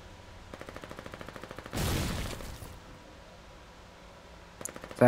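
A mortar fires from a half-track in the war game Foxhole: one loud, broad blast lasting about a second, set against a steady rapid mechanical ticking, with a sharp crack near the end.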